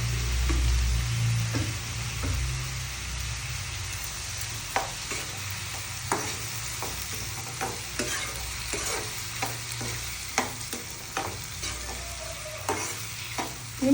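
Tomatoes and salt sizzling in hot oil in a pan, with a steady frying hiss and repeated scraping stir strokes throughout, fairly close and with no talking.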